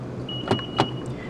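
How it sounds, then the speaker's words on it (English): A 2014 Honda City 1.5 E locks from its key fob button, giving a steady electronic tone with two sharp chirps over quiet idle background, close and clear. "3 beeps does show that the car is locked"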